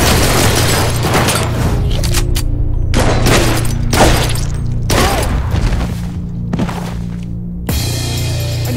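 Heavy gunfire from the shooter game Blue Estate pounds out in loud clustered bursts of booming shots with short gaps, over a constant low droning backdrop.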